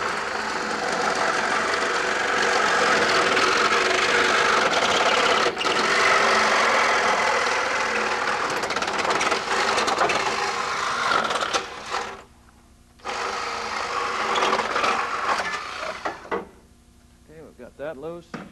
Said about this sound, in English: I'm going to saw cut this tailpipe here so we're able to get it out.